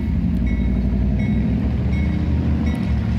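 A CSX freight train rolls through a railroad crossing in Effingham, Illinois, a steady loud rumble of wheels and cars with faint high ringing from the crossing bells, no talking.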